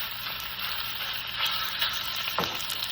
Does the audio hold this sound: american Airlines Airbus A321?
no